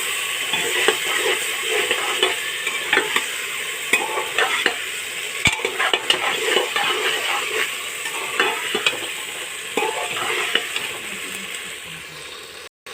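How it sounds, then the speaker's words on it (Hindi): Tomatoes fry in a pan for matar biryani, giving a steady close sizzle broken by frequent scraping and stirring clatter, with no voices. "और हम इसी में टमाटर भी डाल देंगे।"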